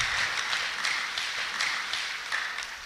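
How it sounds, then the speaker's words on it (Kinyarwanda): Church congregation giving a round of applause during worship, a continuous wash of clapping with rhythmic swells, fairly close and steady. "Tuyikomera amashyi, Imana ishimwe"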